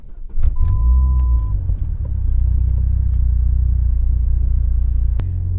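A turbocharged Dodge SRT-4 with suspension mods pulls away, its engine a steady, loud low rumble inside the cabin, with a brief whine early and a sharp click near the end; no one speaks.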